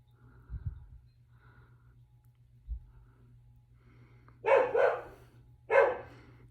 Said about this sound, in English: Sorry, my son's dog is barking.